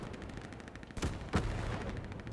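Two heavy booming cannon blasts in the World War II shooter game Hell Let Loose, loud and close, spaced a few tenths of a second apart over a background of rattling battlefield gunfire.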